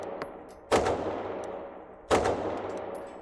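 Two sharp, loud gunshots from the Archon Type B gun in a video game, fired more than a second apart, each a hard crack trailing into a long echoing tail.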